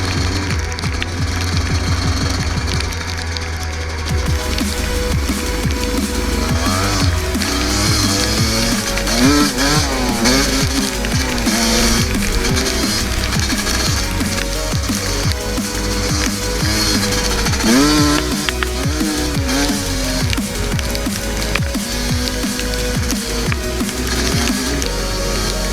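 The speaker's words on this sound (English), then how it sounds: "Then we thought we'd do a bit of wheelie practice." Motorcycle engine revving up and down through repeated throttle blips during wheelie practice, loud and close, with rising and falling pitch sweeps and no talking.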